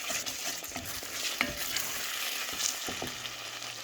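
Seasoning for oven-grilled tilapia fries in oil in a pan, giving a faint, steady sizzle with occasional soft stirring clicks and taps.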